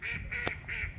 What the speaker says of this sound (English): I heard a honk.